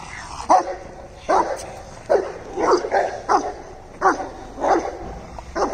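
Rottweiler dogs bark in a park, a series of sharp, moderately close barks and yips coming in irregular bursts every second or so over quiet outdoor background.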